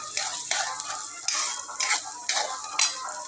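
Onion sautéed with salt in a pan: a soft sizzle under rhythmic scraping stir strokes of a spatula against the metal, close, about six strokes in quick succession.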